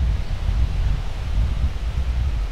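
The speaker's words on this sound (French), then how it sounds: "Beaucoup de vent, ouais." Strong outdoor wind at a home spirulina cultivation spot, a continuous loud low roar of gusts battering the microphone without pause and with no voices.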